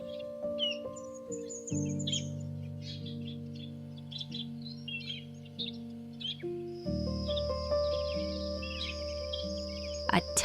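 Faint, high chirps from a small bird flutter in irregular bursts over sustained background music.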